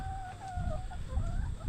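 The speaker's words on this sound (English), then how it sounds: "Chicken tractor's got some of our older laying hens in it." Older laying hens in an outdoor chicken tractor give soft, scattered clucks and low murmuring calls. The sound is faint and close, with no talking.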